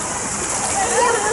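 Water splashing and streaming from a splash pad fountain at a park kids' pool in Brampton, a continuous close rushing hiss with people talking over it.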